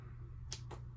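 Two quick scissor snips cutting out water slide decals, close and crisp against a low background hum.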